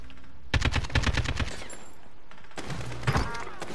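Gunfire in the video game Gunfight comes as a rapid automatic burst, loud and close, then a pause and a second shorter volley with a crunchy impact.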